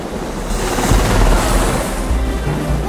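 A helicopter approaches in Jurassic Park: The Game, a loud, steady low rotor rumble with wind-like wash that swells slightly toward the middle, with no talk over it.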